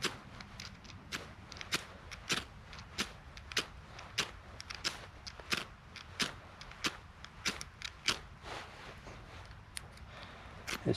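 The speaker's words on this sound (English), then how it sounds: "It's not very good fire starter." A ferro fire starter rod from a cheap Temu survival kit is struck repeatedly with a striker, giving sharp scraping rasps at an irregular, fairly steady pace, close and fairly quiet, with no talk.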